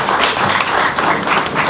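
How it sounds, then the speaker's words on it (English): Loud, close applause from colleagues at a SAMA 2019 event in Limpopo, Africa, as continuous dense clapping with a few sharper individual claps standing out and no voices. "Let's sustain the round of applause."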